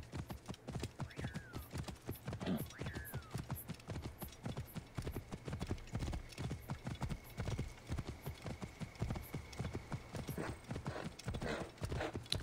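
Horse hooves clip-clop in a steady, brisk gait while riding in the video game Assassin's Creed Origins, with a couple of brief whinnies and faint game ambience.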